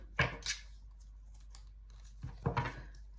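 A deck of tarot cards being shuffled in two short riffling bursts about two seconds apart, close and crisp against a quiet background hum.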